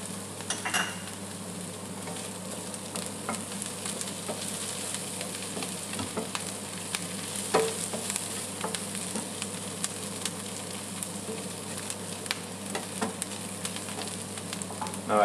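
Sliced chanterelle mushrooms and thyme fry in a hot pan, giving a steady close sizzle and crackle with occasional stirring scrapes and utensil clinks throughout.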